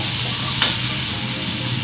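Prawns and onions fry together in a pan, a steady close sizzle with a brief stir scrape partway through, no voices over it.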